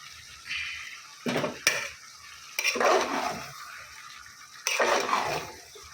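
Chicken sautés in a pan, stirred in three bursts of loud scraping and sizzling, separated by quiet pauses; close and with no talk.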